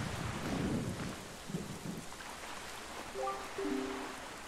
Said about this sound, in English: Hey, bird, it is lightning out. You could get zapped.